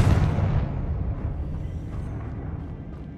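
Two spell blasts, Bombarda and Confringo, go off in Hogwarts Legacy as a loud boom at the onset, then a rumbling explosive roar that slowly fades over a few seconds.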